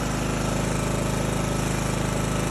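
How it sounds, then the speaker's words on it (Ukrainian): A petrol generator runs steadily beside a Deye inverter setup, a loud, constant engine drone with an even mechanical pulse and no speech over it. "Наші генератори. У мене такий, дивіться, генератор."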